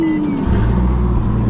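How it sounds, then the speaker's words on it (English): A Nissan Versa with a damaged exhaust rumbles loudly up close, a deep, rough, low drone that settles into a steady throb after a brief shift in pitch. "We're gonna fix his exhaust so it doesn't sound like that car."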